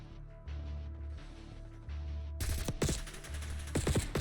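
AK assault rifle fire in the video game Black Ops 6 opens after a quiet stretch of game ambience, a close burst of rapid, punchy automatic shots in uneven bursts.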